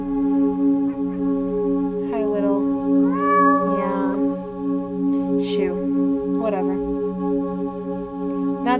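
A cat meows several times in a video game, short rising and falling cries over a steady humming game background.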